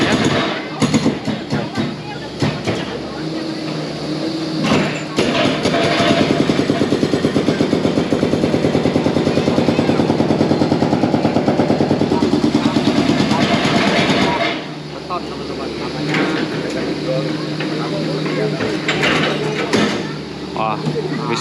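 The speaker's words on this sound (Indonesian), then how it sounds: "eskavator sudah mulai beroperasi ya untuk mengebor badan jembatan yang terhanyut ya" Loud, harsh mechanical pounding and grinding of an excavator breaking up the concrete of a collapsed bridge, continuous for most of the clip with a voice talking over it.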